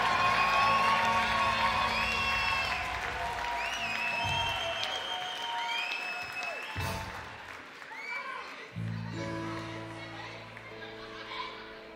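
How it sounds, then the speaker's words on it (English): A concert audience applauds with cheers and whoops from a large crowd, loud at first and gradually thinning, while band instruments and voices sit underneath and then start playing again near the end. "So give them an extra special round of applause."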